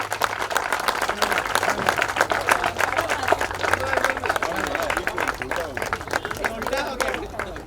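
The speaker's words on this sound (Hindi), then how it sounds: "जोर से तालियां।" Loud, steady applause from an audience at an animal-welfare event where an animal care van is donated, dense clapping running throughout with crowd murmur mixed in.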